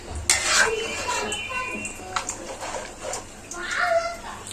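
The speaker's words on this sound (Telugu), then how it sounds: "అంతా ఒకసారి కలుపుకోవాలండి." A spoon stirring fish curry (chepala pulusu) in a pot, with scraping, clinking sweeps and a little wet slosh in several separate bursts, close by, with a faint voice in the background.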